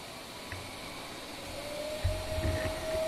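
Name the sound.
electric generator started up with a variac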